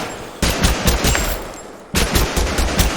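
Assault rifle firing in the video game Totally Accurate Battlegrounds, two loud rapid bursts of full-auto shots with a short pause between them, close and without talk.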